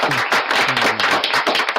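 Brief applause: a short, dense patter of hand claps from a small group, close and fairly loud, with no talk over it.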